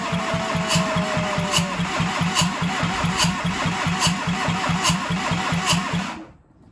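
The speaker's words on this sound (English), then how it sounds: "It's taking forever to start." A Seat Arosa 1.9 TDI diesel engine, freshly built, cranks for a long stretch without catching, the starter churning in a steady rapid rhythm, loud and close, before cutting out near the end.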